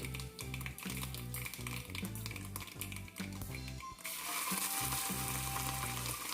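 Mustard seeds splutter in hot oil with halved dried red chillies for a Kerala sadya beetroot pachadi, giving a dense, continuous sizzle peppered with crackling pops that grows brighter and louder partway through, with low background music underneath.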